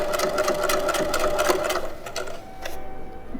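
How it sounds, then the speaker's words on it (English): A sewing machine back stitching a seam on a square fabric bag, a close rapid mechanical chatter of needle strokes that runs in short stitching bursts, slows and pauses, then resumes briefly. "we are going to come forward a couple, back stitch a couple, and just slowly move on down."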